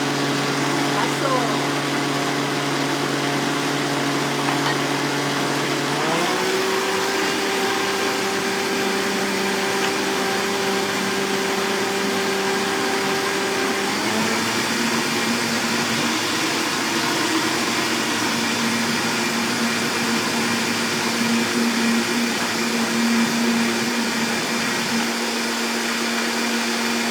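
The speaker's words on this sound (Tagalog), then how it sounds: "Blender" A kitchen blender runs steadily for the whole stretch, a loud continuous motor whine that shifts pitch a couple of times as the load changes, with no pauses.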